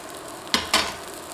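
Black bean burger patty sizzling in a pan, two short bursts of frying hiss as it settles or is moved, over a low steady background.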